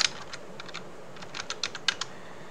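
Rapid clicks of computer keyboard keys as a Yu-Gi-Oh card name is typed, in short irregular runs of taps with quiet gaps, close and fairly soft, with no talking.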